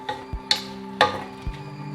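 Lentil cottage pie filling stirred in a pot, a few sharp metallic clinks and soft scrapes spaced about half a second apart over a quiet background.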